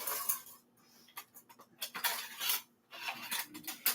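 A metal spoon is picked up from a kitchen drawer or counter while a burrito bowl is being prepared, giving quick clinks and clattering cutlery scrapes over a low steady hum.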